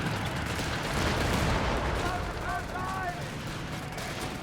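Grenade launcher fire in a Company of Heroes 3 2v2 match, heard as dense, continuous battle noise with overlapping booms and pops and a few brief whistling tones, loud throughout, with no pauses.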